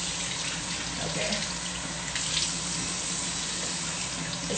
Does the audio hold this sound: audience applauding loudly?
no